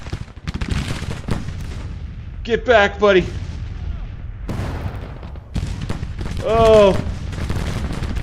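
Cannon and gunfire crash through a video game battle, with dense booms and crackling volleys running under excited talk and shouting.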